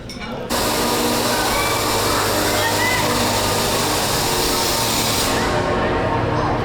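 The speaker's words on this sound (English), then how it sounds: "It's an insane amount of diving and just jumping through the water, but from various heights." Continuous loud rush and splash of water at an aquatic diving show aboard the cruise ship Wonder of the Seas, starting abruptly and holding a broad churning wash before easing off at the end.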